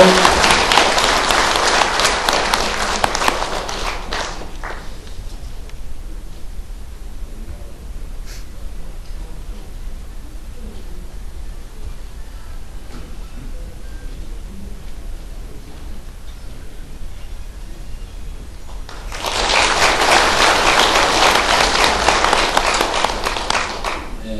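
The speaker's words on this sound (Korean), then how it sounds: "뜨겁게 박수해 주십시오" Audience applause at an information session welcoming a lawyer to the podium, a loud dense burst that fades after about four seconds. A long quiet stretch with faint rustling follows, then a second strong round of clapping near the end.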